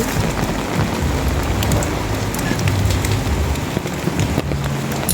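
Steady rain falls outdoors at a family home in the Philippines, a continuous broadband hiss of drops on surfaces with a few sharper patters, fairly loud and unbroken, with no talking.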